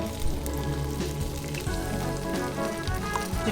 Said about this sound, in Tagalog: Piprito natin siya ganyan.